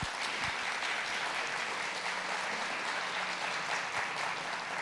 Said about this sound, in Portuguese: Você pode aplaudir o nosso pai fundador